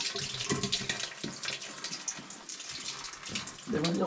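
Water rushes out of the opened drain of a micro hydro setup with Pelton wheels, a loud, continuous, splashy flow heard up close throughout.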